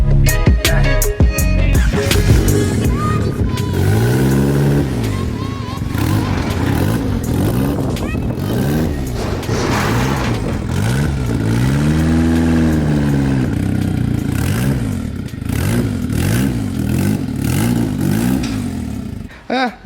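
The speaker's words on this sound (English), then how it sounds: "I have to start this car to get it off the trailer." Turbocharged Honda Civic with a straight-pipe exhaust starting up and revving, loud and close, with a raw rumbling idle and rising, falling rev sweeps throughout.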